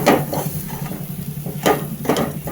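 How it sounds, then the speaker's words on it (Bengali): Spice masala frying in a pan for stuffed bitter gourd, soft sizzling under repeated scraping strokes of a spatula, close and moderately loud with a few sharper stirring bursts. "মশলাটা দিয়ে একটু ভাজা ভাজা করব, একটু নুন"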